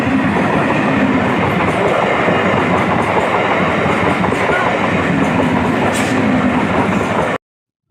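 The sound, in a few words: Sealdah–Hasnabad train passing a railway level crossing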